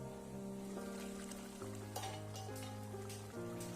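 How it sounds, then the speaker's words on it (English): Mutton frying in a pan on a medium flame, a soft continuous sizzle with occasional light scraping and clinks of a utensil, faint and close with no talking. "Now fry the mutton very nicely."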